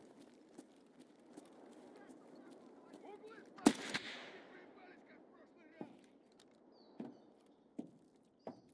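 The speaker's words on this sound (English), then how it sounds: "Are you shooting me through a wall?" Gunfire in Escape from Tarkov, scattered sharp shots, one loud near blast and several fainter single reports spread over quiet background, with a person talking at low level.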